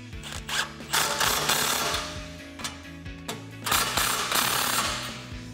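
A 13 mm socket on a ratchet wrench tightens an exhaust hanger clamp during a Runner RedRock cat-back exhaust install. Close, rapid ratcheting clicks come in short bursts separated by brief pauses, and no one speaks.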